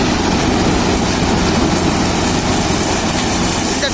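Sugarcane harvester machine cutting cane in the field, a loud continuous engine roar with dense mechanical noise holding steady throughout, no voices.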